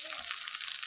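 Pointed gourd sizzling in hot oil in a pan, a steady close crackle and hiss lasting under a second, soft and unbroken.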